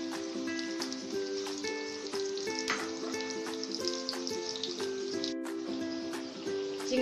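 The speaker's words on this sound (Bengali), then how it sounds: "এখন দিয়ে দেবো চিংড়িগুলো, এটা আমি একটু ভেজে নেব।" Prawns frying in soybean oil in a pan, a steady close sizzle and crackle that holds at an even level throughout, with faint tonal background music underneath.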